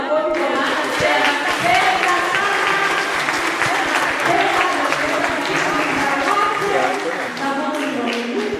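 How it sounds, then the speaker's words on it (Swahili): A church congregation applauds during a Sunday service, with dense, sustained clapping filling the room throughout and voices rising over the applause. "Mpigie Yesu makofi kwa maana tena"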